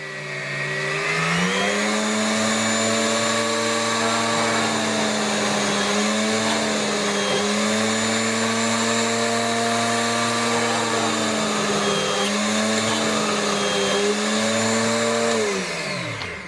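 A Dremel high-speed bench drill press runs a 1mm bit, its loud, steady motor whine rising and dipping slightly as the bit feeds in and eases off, with no talking.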